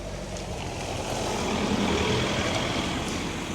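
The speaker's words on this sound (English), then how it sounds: "Oh, there's another car coming now." A vehicle passing close on a tight, hedge-lined country road, a steady low rumble of engine and tyres building to a peak mid-way and easing off, with wind noise throughout.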